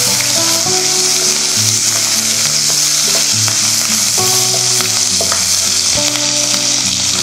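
Green chillies fry in a pan of hot oil for vegetable pulao, a loud, steady sizzle running throughout with occasional stirring clinks, no voices.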